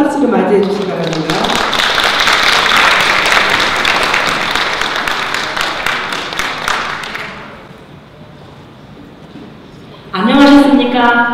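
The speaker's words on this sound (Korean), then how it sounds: "김금녀 고모님 나오실 때 모두 큰 박수로 맞이해 주시기 바랍니다" An audience at a flower design association's year-end gathering claps loudly and steadily for several seconds to welcome a speaker to the stage, fading out before a voice comes in at the end.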